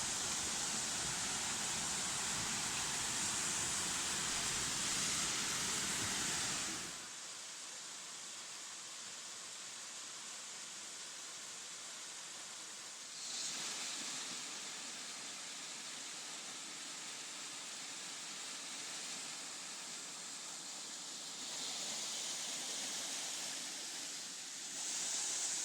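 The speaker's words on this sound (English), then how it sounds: "But here's the falls." A waterfall on the Appalachian Trail roars in a broad, steady rush that is loud at first, then drops to a quieter, shifting wash of water with no talking.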